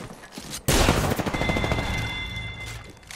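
Gunfire in Apex Legends erupts as a sudden loud burst of rapid automatic shots, with dense repeated cracks that taper into a ringing tail.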